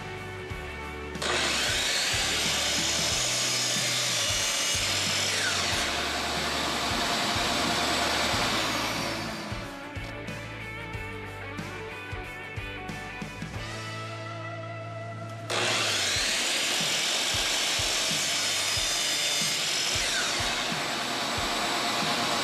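A miter saw cuts 45-degree corners off a 2x4 bench leg, a loud close whine spinning up, grinding through the wood, easing off, then a second long cut, with no speech.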